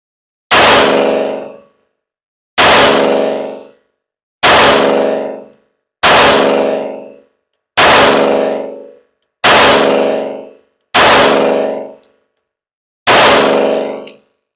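Eight slow, evenly spaced shots from a Sig P211 GTO pistol at 7 yards, each a loud, sharp crack that rings off briefly, separated by pauses of one to two seconds, with no voices.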